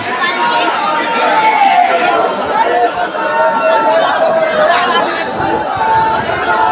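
A packed crowd at Jejuri Khandoba temple during Champasasti in 2023, a continuous close babble of many voices and shuffling without pause.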